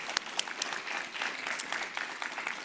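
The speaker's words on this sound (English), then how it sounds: "Please give them a huge round of applause." Audience applause at a food policy summit in Atlanta, a dense steady wash of many hands clapping for the full stretch, fairly close, with no voices over it.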